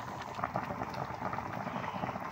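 Sinigang na bangus soup with kangkong, tomato and chili bubbling steadily in a pot, a dense, continuous close simmering crackle with no talk.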